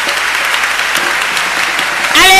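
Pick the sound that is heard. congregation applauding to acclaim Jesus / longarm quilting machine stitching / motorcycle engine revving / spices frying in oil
congregation applauding to acclaim Jesus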